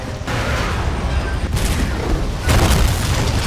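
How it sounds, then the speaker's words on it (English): A loud explosion in the video game Resident Evil 2, a sustained broadband roar with a second surge of blast noise near the end, heard alone without talk. "he's finally killed in the explosion"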